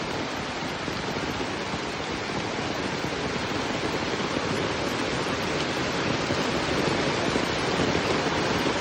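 Heavy rain pours down in a steady, dense broadband roar at an even loudness for the whole stretch, with no speech or other distinct sounds.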